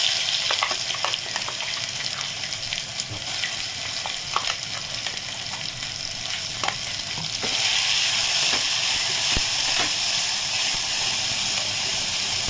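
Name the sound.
spice paste sautéing in oil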